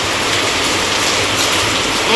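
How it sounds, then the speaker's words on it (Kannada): Steady rain falls outdoors, a dense, even hiss of drops that holds unbroken throughout with no voices over it. "ಇಲ್ಲಿ ನೋಡಿ ಬೀಳುತ್ತಿರುವ ಮಳೆ ಹನಿಯನ್ನು ಬರ್ಸವನ್ನು"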